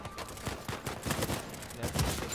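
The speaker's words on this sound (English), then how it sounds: "your sidekick's shooting somewhere" A teammate fires a gun in Uncharted 4 multiplayer, heard as a steady run of fairly faint, rapid shots in the game mix.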